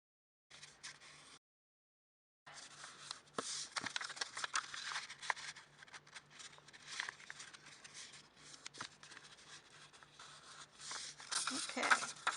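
Construction paper is folded and creased along its edges by hand, giving soft rustling, crinkling and tapping sounds that come close and continue with brief pauses.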